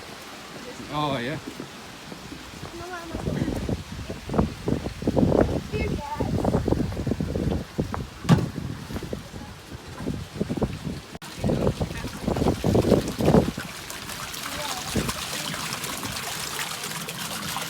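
Outdoor rain at a coarse fish farm, a steady patter and trickle of water running throughout, with splashy bursts and people talking close by over it.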